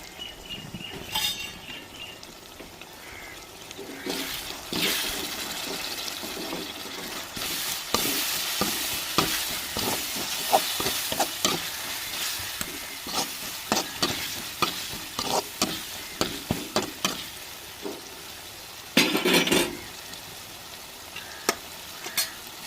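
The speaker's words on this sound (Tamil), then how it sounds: "லேசாக தண்ணி ஊற்றிக்கிறோங்க ஏன்னா மசாலா அடி பிடிக்காமல் இருக்கிறதுக்காண்டி" Chicken masala frying in a pan for an egg rice breakfast dish, with a little water added; steady sizzling runs throughout while a spoon stirs and scrapes repeatedly, clinking against the pan in close, busy bursts.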